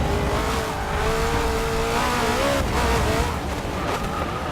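Race car engine from Forza Motorsport 6 drones loudly and continuously with gear-shift pitch changes and brief tire squeal as the rear end steps out, no talking over it.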